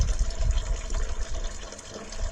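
A hall-bathroom toilet flushes during a flow test at a house, its water gushing and churning in uneven surges close by, with no one speaking.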